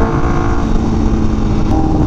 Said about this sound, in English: The C Project sounds amazing on this bike with the Brent tuning flash